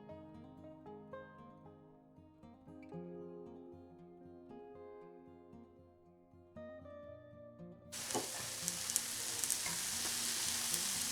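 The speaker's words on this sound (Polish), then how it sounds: "Smażymy na średnim ogniu, nie za dużym, żeby nam się nie paliły." Racuchy, Polish pancakes, fry in a pan over medium heat. A steady, loud sizzle of hot oil comes in partway through and continues to the end, with no talk.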